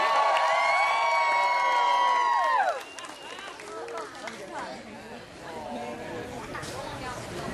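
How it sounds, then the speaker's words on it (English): A crowd at an outdoor mud show street performance cheers and whoops loudly as a performer runs to the stage, the sustained group shout dropping after a few seconds into excited chatter and scattered calls. "The crowd went wild!"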